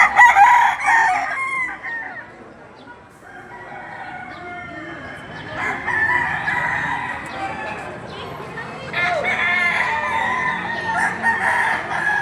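Young Pumpkin Sweater stag rooster crowing, loud and close, with a first crow at the start and further crows around the middle and near the end, amid other fowl and some voices in the background.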